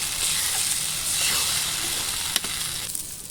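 Cutlet filling of flour dough and raw potato stirred in a pan over heat, a steady soft sizzle with scraping strokes and a couple of sharp clinks near the end.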